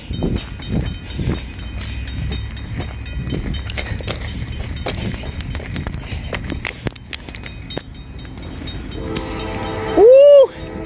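Norfolk Southern freight train 173 rumbles past nearby with a steady rolling clatter of cars, then its horn blasts loud and sustained near the end.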